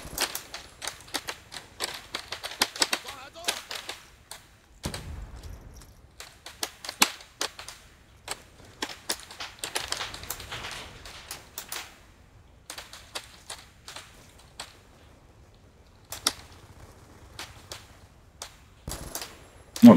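Rapid gunfire from the video game Call of Duty: Black Ops II crackles in sharp clustered bursts and single shots, with frequent short pauses between volleys, fairly close and crisp.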